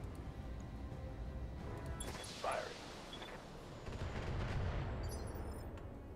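Mech weapons firing in Battletech, a distant barrage of booming shots and impacts, fairly faint, with a brief louder crash midway and rumbling blasts toward the end.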